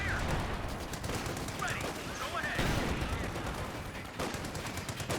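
A Maxim machine gun fires in a Company of Heroes 2 city battle, sustained rapid bursts forming a dense, continuous rattle of gunfire with distant shots layered in, steady and fairly loud throughout.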